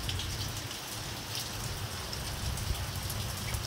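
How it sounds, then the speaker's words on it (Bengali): Heavy downpour of rain pours down in a steady, dense roar, loud and close, with no let-up and no voices across the few seconds. "এখন একবারে জোরে মুষলধারে এই যে বৃষ্টি নেমেছে।"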